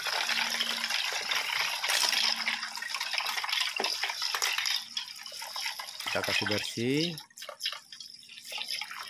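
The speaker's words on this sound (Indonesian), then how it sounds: "ini air mengalir teman-teman ya biar cepat dia kalau kita spool cepat dia bersih" Running tap water rinses a fishing reel spool, a steady splashing flow with scattered drips that continues under a man's speech throughout.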